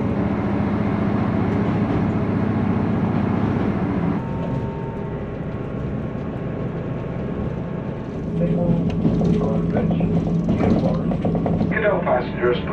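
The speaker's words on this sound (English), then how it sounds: "That's us just pulling out of Kyle now on time, and in a two carriage train I've got a whole carriage to myself." A two-carriage ScotRail train pulls out of Kyle of Lochalsh, heard from inside as a steady low rumble with clattering mechanical and wheel noises that grow busier and louder toward the end.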